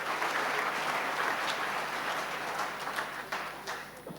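Audience applause for health workers during South Africa's 2014 budget speech in parliament, a dense steady clapping from a large crowd that gradually thins toward the end, with no talking over it.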